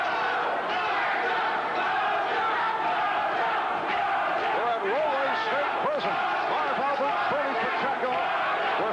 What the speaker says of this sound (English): Chant of Raja from the crowd.